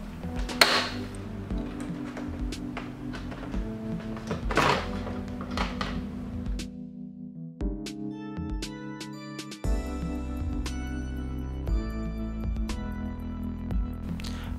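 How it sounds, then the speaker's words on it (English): A PS4 game console's plastic top case panel is pried loose as its clamps release, giving several sharp plastic clicks and snaps with handling knocks between them, close up and with no talk. "remove the top panel of PS4 case. It's easy to remove, just pull up until clamps open."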